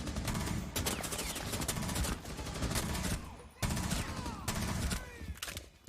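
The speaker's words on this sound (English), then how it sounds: "Mag dump." Automatic rifle fire in a tactical shooter game's terrorist-hunt mode, a long rapid burst emptying a whole magazine, loud and close, broken by two brief gaps before firing resumes.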